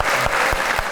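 Audience applause at a television talk show taping in a studio: a dense, steady burst of clapping from a crowd that fills the whole moment, close and loud, with no voices over it.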